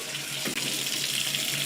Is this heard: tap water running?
yes